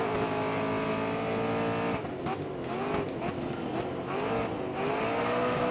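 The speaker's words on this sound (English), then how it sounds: "they are squealing their tires a bit" Race cars in GRID Autosport squeal their tires through a corner. Loud engines drone and shift pitch the whole time, with short tire squeals breaking in over them and no talking.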